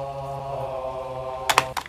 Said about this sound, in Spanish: Esta canción tiene coros tanto femeninos como masculinos